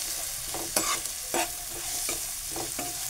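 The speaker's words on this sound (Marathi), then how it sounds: "मिरच्या टाकतो आता आणि हा कांदा. कांदा आपल्याला लालसर होईपर्यंत परतून घ्यायचा आहे." Onion and green chillies fry in a pan while a spatula stirs and scrapes them, giving a steady sizzle broken by several distinct scraping strokes, close up with no talking.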